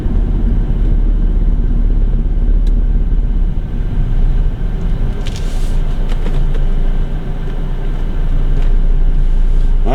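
Road traffic rolling by, a continuous low rumble of passing vehicles with swells and a few brief higher noises, no talk.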